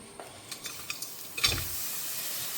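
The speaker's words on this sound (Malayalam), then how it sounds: "അപ്പോൾ നമുക്ക് ആദ്യം ശർക്കര ഇട്ട് കൊടുത്തു." Jaggery dropped into a pan to melt for a jackfruit elayada filling, giving a few soft clinks and a short sizzling stir burst midway, otherwise quiet kitchen background.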